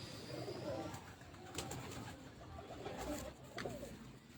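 Pigeons cooing in a rooftop loft, soft repeated coos at moderate distance over a steady low background, with a few brief sharper sounds breaking in.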